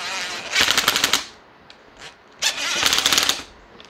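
Two bursts of an impact gun rattle nuts onto a Stihl trimmer during repair work, each rapid hammering run lasting about a second, close and loud in a quiet room.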